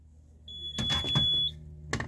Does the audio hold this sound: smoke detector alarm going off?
yes